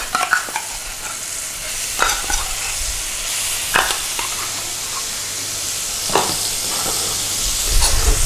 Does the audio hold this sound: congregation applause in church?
no